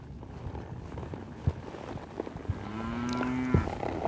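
Cattle moo in a farm sorting pen, one clear drawn-out low moo standing out near the end over scattered knocks, thuds and light wind.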